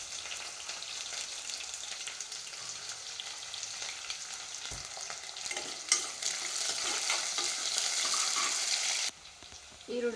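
Onions frying in oil in a pan for a potato and tomato pulao, a continuous close sizzle with stirring and scraping that ends abruptly near the end.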